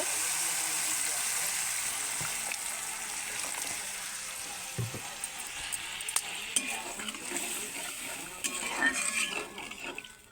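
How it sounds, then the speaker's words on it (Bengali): Water goes into a frying spice paste for a fish curry, giving a soft, close sizzle with stirring and scattered utensil clinks in a home kitchen. "মশলাটা সুন্দর কষানো হয়ে গেছে এবার পরিমাণ মতো একটু জল দিয়ে দেব"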